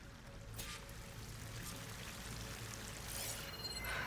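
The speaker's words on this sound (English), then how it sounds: "That waterfall must be coming from somewhere." A waterfall in the video game Horizon Forbidden West pours steadily, a constant soft broadband rush of falling water, alone and fairly quiet, swelling slightly near the end.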